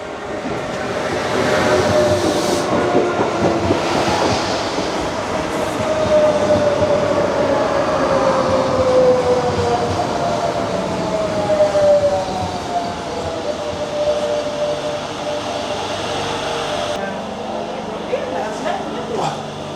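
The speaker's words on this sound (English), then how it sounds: "Right, we're at the train station, ready for our train to take us back to Blanes from Peneda." A train pulls into a railway station in Calella, Spain, with rolling wheel noise and a long rising-then-falling brake squeal as it slows, while people talk nearby.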